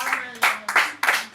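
A church congregation at a Sunday worship service in Le Moule claps in several loud, rhythmic bursts, each swelling and fading, with faint voices mixed underneath.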